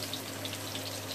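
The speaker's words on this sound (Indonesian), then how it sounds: "Tempenya goreng sebentar." Tempeh fries in a pan of hot oil, giving a steady close sizzle with scattered crackles and pops and no talking.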